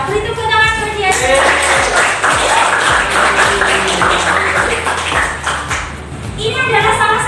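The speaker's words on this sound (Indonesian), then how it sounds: "Beri tepuk tangan buat Diandra." Classmates clap for a student named Diandra during a lesson, a dense patter of hand claps running steadily through most of the stretch under a speaking voice, thinning briefly near the end.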